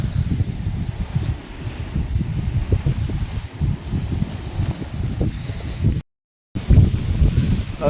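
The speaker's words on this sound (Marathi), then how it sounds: "ते बघू शकता वरती वारा एवढा आहे" Strong wind buffets the microphone on a hilltop at Ratangad fort, a steady low roar with gusty surges throughout and a brief dropout near the end.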